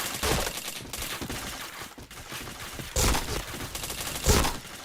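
Video game weapon fire, rapid bursts of gunshots in quick succession, dense and loud, with sharper heavier shots standing out near the end.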